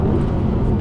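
Audi R8 GT sports car on a racetrack, its engine giving a loud, steady, close rumbling drone through a second-gear hairpin, with no talking.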